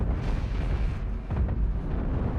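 Cannon fire in the space-combat game Cosmoteer rumbles as a continuous, dense barrage of booms and blasts. The sound is loud and steady throughout, with no pause between the volleys.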